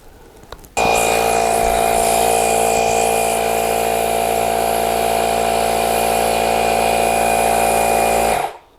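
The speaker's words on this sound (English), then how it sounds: "This just does not pump enough air fast enough to get this bead" A small electric pump runs loud and steady while inflating an Okai ES30 scooter's rear tire, trying to seat the bead, starting abruptly and holding one unbroken droning whine before cutting off near the end.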